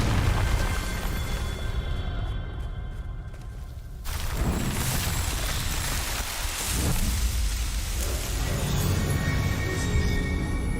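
In Hogwarts Legacy, a Confringo explosion spell lands as a sudden deep blast, then a rumbling, crackling roar that lingers over a constant rain-like hiss.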